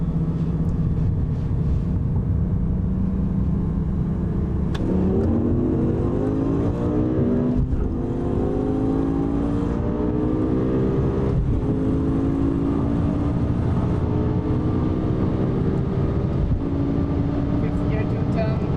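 A red BMW M6 and a Lamborghini Gallardo accelerating hard in second gear from a rolling start at 50, loud engine roar rising through repeated upshifts, heard from inside the car with a voice talking over it.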